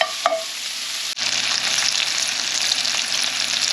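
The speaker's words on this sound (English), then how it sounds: "We'll get that bacon rendered, and then we'll come in with the onions." Homemade bacon rendering in a pan ahead of onions for ketchup, a steady close sizzle and crackle of frying fat after a brief stir at the start, with no talk.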